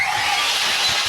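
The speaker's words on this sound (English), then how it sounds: "you can use your saw just like a blower" A skill saw spins freely on a tile roof as a blower, a steady loud high-pitched whine with a rushing airy hiss and no cutting.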